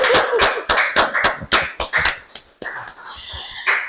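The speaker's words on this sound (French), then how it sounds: "Vous pouvez applaudir pour vous-même et on va vous accompagner." Sparse, uneven hand claps at a French-language church gathering, a dozen or so sharp separate claps spaced irregularly, loud and close, with no talk over them.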